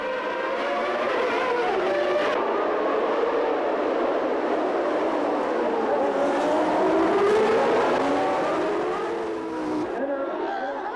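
Formula One cars roaring off the starting grid at race start, Mansell's Ferrari among them, a continuous loud engine wail with rising and falling pitch sweeps as the pack accelerates away.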